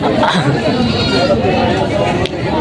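A goat bleats at a busy livestock market in Padre Garcia, Batangas, its cries rising over loud crowd chatter and people talking nearby.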